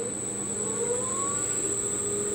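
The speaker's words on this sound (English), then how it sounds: "I'm just going to spin the motor up and let you guys check it out" A Turnigy Aerodrive brushless motor fitted to a Sieg mini lathe spins up with a steady electric whine that rises in pitch, a continuous whirring hum with no talk.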